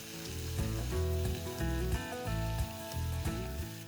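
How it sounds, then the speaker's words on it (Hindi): Tomatoes with salt sizzle in a hot pan, a continuous crackling fry with some stirring, heard alone at moderate level under a faint tonal background. "और इसको भून लेंगे 2 से 3 मिनट के लिए"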